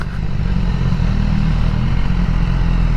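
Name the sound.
motorcycles riding by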